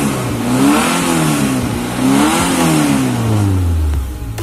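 A Suzuki Carry 1.0 engine revs up and eases off twice in close succession, its pitch climbing and falling in a steady, fairly loud rhythm close by, with no talking.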